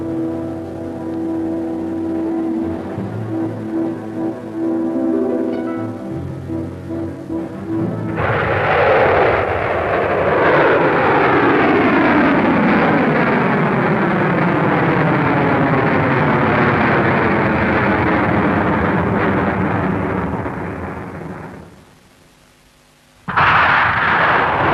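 A Pershing missile test launch: a low rumble builds into a sudden loud, sustained roaring blast that holds for over ten seconds, then fades away and cuts off.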